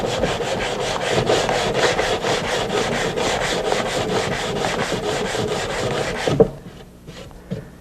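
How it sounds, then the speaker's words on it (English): Rhythmic back-and-forth sanding on the bevelled edge of a wooden board, steady rasping strokes up close, then stopping abruptly with a couple of light knocks. "But now sand it again."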